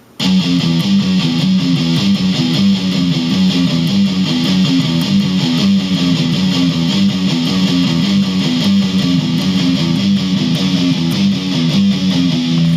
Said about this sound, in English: But he's partly muting that, so it's going to sound like this.